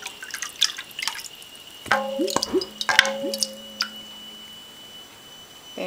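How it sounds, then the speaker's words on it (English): Water rinsed from a cup into a yarn dye pot, close drips and small splashes with a few bubbly plops, then a fading trickle into quiet. "I'm going to just rinse up the cup a bit."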